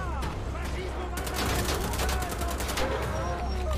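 Rapid gunfire rattles in a dense, continuous stream from a gun in Wolfenstein: The Old Blood, loud and close, with a brighter burst of shots midway amid game noise.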